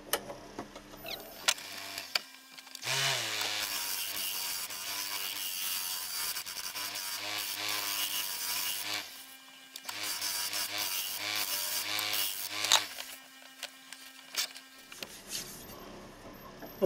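A woodturning lathe smoothing the rim of an 11-inch ebony platter: a sustained, close rubbing and scraping hiss over the lathe's hum, broken by short pauses and a few sharp knocks.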